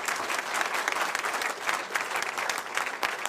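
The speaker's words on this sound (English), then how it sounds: "Let's give all the 6A's a round of applause." A burst of audience applause, dense steady clapping from many hands, sustained throughout without a voice over it.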